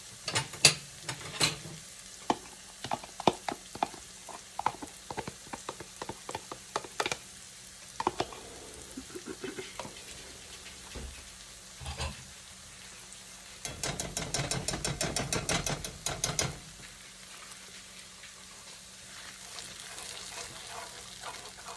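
Sausage gravy roux frying in oil while being stirred, with close bursts of scraping and clicking from the utensil, a louder stretch of crackling sizzle later on, then quieter hiss, no talking.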